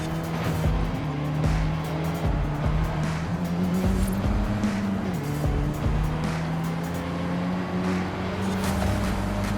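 Ford Focus ST engine in Forza Horizon 5, a steady loud engine drone that rises in pitch through the gears, with repeated thumps and a brief tire squeal, no voices.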